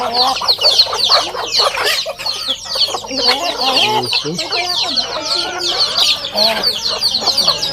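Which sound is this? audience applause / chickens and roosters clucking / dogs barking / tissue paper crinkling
chickens and roosters clucking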